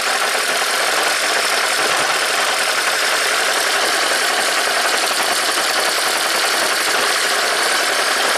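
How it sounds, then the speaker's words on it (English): A Toyota Prius engine running rough with a cylinder 3 misfire after a DIY head gasket job, a steady loud broadband mechanical roar heard up close with no talking. "So now we just have a misfire in cylinder 3."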